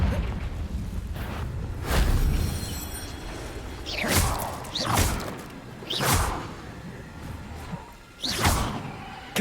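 Confringo blasting spells cast in Hogwarts Legacy, several separate whooshing bursts with sharp attacks spaced a second or two apart over a rumbling game backdrop.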